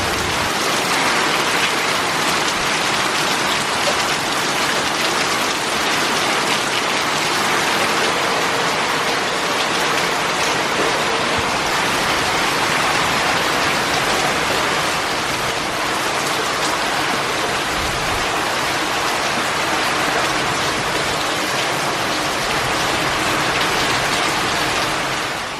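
Heavy rain pours steadily during the rainy season in Laos, a dense, constant hiss of downpour on surfaces that stays loud and unbroken throughout with no voices.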